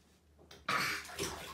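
Water sloshes and splashes in a bathtub where a toddler is bathing: a quiet lapping, then a sudden close burst of splashing that fades into a softer second slosh.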